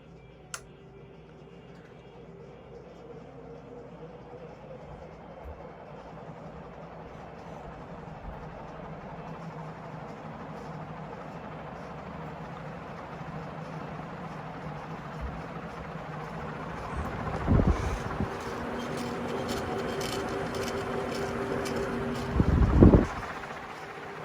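A 56-inch KDK B56X5 industrial ceiling fan running at high speed, giving a steady broadband whoosh of moving air that builds gradually, with a couple of brief louder knocks near the end.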